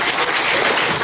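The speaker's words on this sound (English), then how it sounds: "Yo, clap it up," An audience claps steadily and densely at a youth church gathering, a full round of applause at close range with no voices over it.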